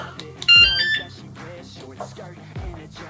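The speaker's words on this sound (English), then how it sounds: "got the alarm set and installed. Let's arm it." Electronic beeps from an anti-theft alarm being armed on a Lectric XPedition cargo e-bike, a short burst of sharp high tones followed by a lower chirp, loud and close, with faint handling noise around it.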